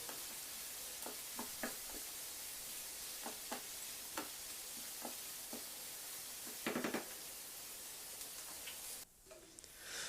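Onions and potatoes frying in a pan give a steady, quiet sizzling hiss, with scattered small ticks and pops and a brief cluster of crackles, before the sizzle drops away near the end.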